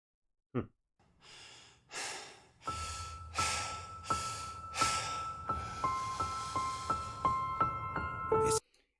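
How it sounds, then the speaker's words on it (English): Heavy, rhythmic breathing in a music video: a sharp gasp, then repeated deep breaths, rising and falling, with a faint steady tone and beat beneath, fairly quiet overall. "that heavy breathing just reminds me"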